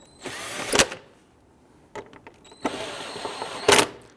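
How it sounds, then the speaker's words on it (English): Thermostat housing bolts are snugged down on a 2008-2013 Infiniti G37, heard as short bursts of a power tool spinning close by, separated by quiet pauses. "Install your 2 bolts here, one on the other side. And let's go ahead and snug those down."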